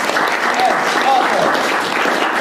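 Audience applause after a spoken-word poetry performance, a steady dense wash of clapping filling the whole moment at close range, with some cheering voices mixed in.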